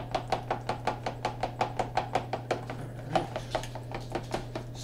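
A utensil mixes pizza sauce in a bowl, making rapid rhythmic tapping strokes at a steady, quickening pace. The tapping is close and clear over a constant low hum.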